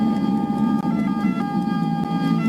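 An ambulance siren wails loudly and steadily, its tone holding close and prominent over low traffic rumble outside a prison, with no talk.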